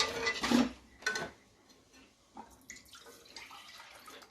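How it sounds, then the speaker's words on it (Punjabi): Milk is poured into a cooking pot for custard kheer with a short splashing gush up close, then a quieter trickle and faint clinks as the pour ends. "ਅਸੀਂ ਇਹਦੇ ਵਿੱਚ ਦੁੱਧ ਪੋਰ ਕਰਾਂਗੇ"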